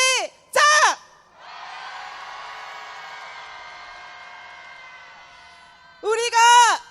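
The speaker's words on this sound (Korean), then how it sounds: "경찰들을 향해서 크게 함성 한번 질러보겠습니다" A protest crowd against Yoon Suk-yeol roars a long sustained cheer toward police, framed by loud close shouts at the start and a swell of yelling near the end.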